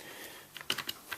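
Keys on a Xenta wireless entertainment ergo keyboard with touchpad pressed in a short burst of four or five light, crisp clicks, close up and quiet, with no talking.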